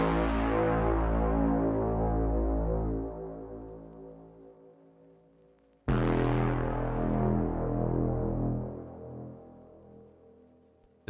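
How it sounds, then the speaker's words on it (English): Dreamsynth's dry cinematic dark lowered synth bass, two long deep notes each starting with a sharp attack and slowly decaying over about five seconds, heard alone without effects. "dreamsynth. This is the cinematic dark lowered bass,"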